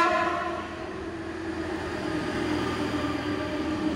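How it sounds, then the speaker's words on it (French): A Transilien commuter train sounds a loud, sustained horn whistle up close at a French railway line, a steady tonal blast ringing over rolling rail noise without speech. "les sifflets des transilins, comment ils sont forts"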